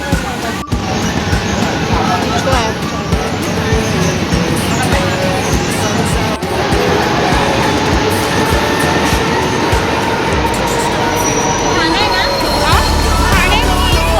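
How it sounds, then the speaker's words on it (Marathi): Metro station ambience with a train running: continuous loud rumbling and clattering of rail cars, with a background hubbub of crowd voices throughout and a sharp click or two. "metro station"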